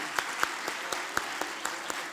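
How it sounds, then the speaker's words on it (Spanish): A small audience at a talk on brands claps sparsely, with about a dozen distinct, fairly quiet claps spaced irregularly over two seconds. "un aplauso para ustedes, no para mí"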